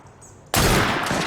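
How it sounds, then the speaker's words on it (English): A gunshot fired in the Assassin's Creed Syndicate video game goes off suddenly as a loud, sharp blast, then a sustained burst of noise follows for the rest of the moment over faint ambient game sound beforehand. "That sounded like a second gunshot."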